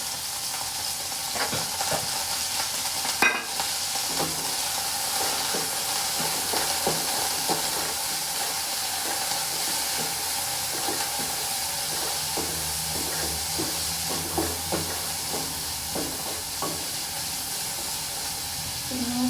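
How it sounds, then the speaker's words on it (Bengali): Chopped prawns frying in mustard oil, a loud, unbroken hissing sizzle lasting throughout, dotted with soft stirring knocks and scrapes of a spatula in the pan, with no one speaking. "সর্ষের তেলের মধ্যে দিয়ে দিব হচ্ছে চিংড়ি"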